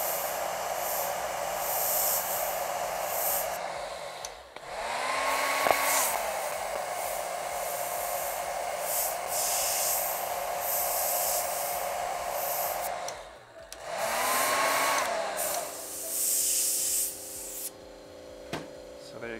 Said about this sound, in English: I'm going to use a blow dryer right now.